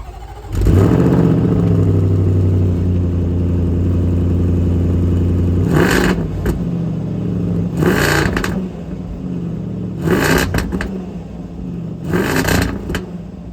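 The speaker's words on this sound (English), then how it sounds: "the supercharged V8 that powers the Defender" A 2023 Land Rover Defender's supercharged V8 idles with a deep, steady rumble, then blips its throttle four times in sharp, loud revving bursts close by.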